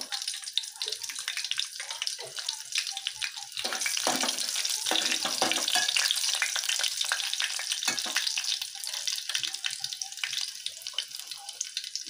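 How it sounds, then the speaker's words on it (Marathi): Crushed garlic frying in five or six spoons of hot oil, a steady close sizzle and crackle that swells in the middle and continues with faint stirring. "आता मी त्यामध्ये हा ठेचलेला लसूण घालणार आहे।"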